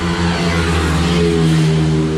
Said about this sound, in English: loud traffic